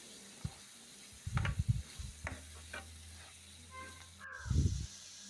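Onion and capsicum fry in butter over a medium flame, a steady soft sizzle broken by several close, heavy scraping and knocking strokes of stirring, with a louder cluster near the end.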